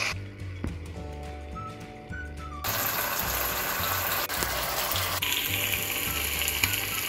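Tandoori chicken leg pieces fry in a pan with a steady, crackling sizzle. A rhythmic mechanical clatter runs underneath, and the sizzle grows louder and denser after the first few seconds.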